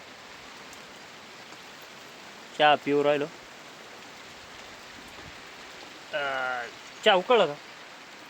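Heavy rain pours down in a steady, even hiss that fills the whole scene, while people talk briefly over it in a few short bursts.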